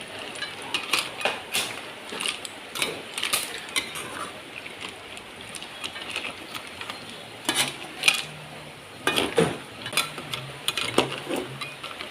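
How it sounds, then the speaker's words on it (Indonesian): Snails and melinjo leaves are stirred in a pan, with repeated scraping clinks and clatter of a utensil against metal in an irregular rhythm, close and fairly loud. "Aduk rata."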